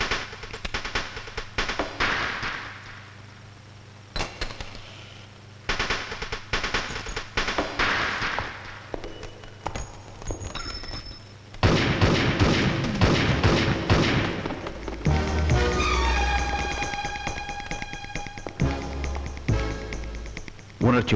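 Gunfire in a Tamil action film scene, bursts of sharp shots and thuds mixed with music and effects, loud and dense over about twenty seconds, with voices in places.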